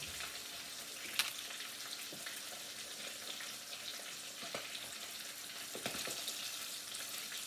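Tiny little fish fry in hot oil until crispy, a continuous bright sizzle with scattered pops and crackles, close and fairly loud throughout, with no talking.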